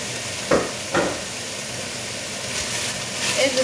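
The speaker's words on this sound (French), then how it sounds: "Et je vais les faire revenir également avec la viande." Onions sizzling in a pan with browned veal for a blanquette de veau, a steady soft frying hiss with a couple of stirring clatters near the start.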